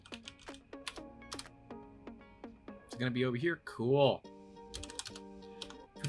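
Rapid clicks of a computer keyboard as numbers are typed into a calculator during a Fusion 360 design session, crisp close keystrokes in quick bursts with someone talking briefly over them.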